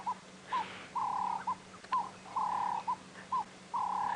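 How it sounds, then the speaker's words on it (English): Birds call at sunrise in African bush during a safari drive, a repeated pattern of short whistled notes alternating with longer sustained whistles, fairly clear and mid-distance over a steady low vehicle hum. "You actually hear a chorus of birds."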